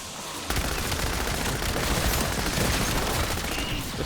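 MP40 submachine gun in a Zombies shooter game, opening up after a brief quiet moment into a long, unbroken stream of rapid automatic fire, loud and close, with no voices.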